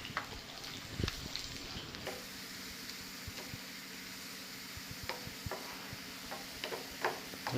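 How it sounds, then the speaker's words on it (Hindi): Onions frying in oil for daal give a quiet, steady sizzle, broken by occasional ticks and clinks of a stirring utensil against the pan. "ये हम दाल के लिए प्याज फ्राई कर लेते हैं ताकि उस पर थोड़ा सा तेल और प्याज के"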